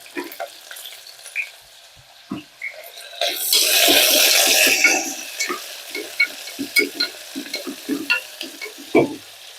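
Curry leaves crackle in hot oil with dried red chillies and a green chilli, giving a loud sputtering burst followed by scattered pops and spoon knocks, close up with no talk.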